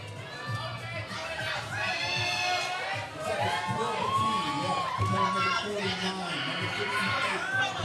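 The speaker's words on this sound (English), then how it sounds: "Crowd is going wild." At a natural bodybuilding championship pro bikini lineup, a crowd cheers and shouts wildly with many excited voices, loud and continuous, with close chatter mixed in.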